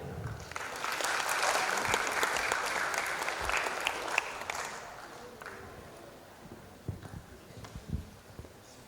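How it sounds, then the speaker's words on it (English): An audience applauds a conference speaker at DevOpsDays Jakarta, a dense, moderately loud wash of clapping that swells, then thins into scattered individual claps before fading. "Round of applause untuk Eric Tan."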